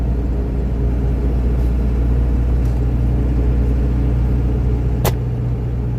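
A pickup truck's engine rumbles steadily from inside the cab while driving during a New Mexico flood storm chase, a loud continuous low drone with road noise and one brief click near the end.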